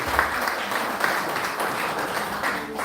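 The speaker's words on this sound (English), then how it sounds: "Let's clap for Felicitae, everybody" A crowd gives dense, steady applause at a 90th birthday celebration, the clapping filling the whole stretch at an even level with no pause.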